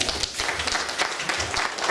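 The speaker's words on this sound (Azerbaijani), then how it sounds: "Bir alqışlar gəlsin." An audience at a stage show bursts into dense, steady applause, continuous clapping filling the room at close range for the whole stretch.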